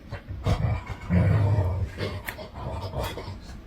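A dog whimpers and pants nearby in soft, uneven bursts, with snuffling and small movement noises in a quiet room.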